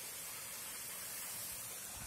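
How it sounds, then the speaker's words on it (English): Bormora waterfall near Nong Khai pours in a steady, even rush of broadband water noise, heard from a distance and fairly faint, with no voices over it. "one is the waterfall, Bormora waterfall."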